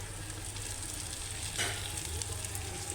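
Onions frying and being stirred in a pan for Tamil Nadu–style mutton biryani, a steady close sizzle with a brief louder burst of stirring partway through.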